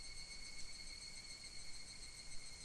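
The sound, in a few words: cicadas chirping in a video game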